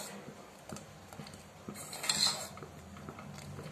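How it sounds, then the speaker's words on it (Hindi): A ladle scrapes and clinks against a pot while stirring fruit custard. The scrapes are faint and irregular, with one brief louder scrape near the middle. "कड़छी घुमाते रहिए"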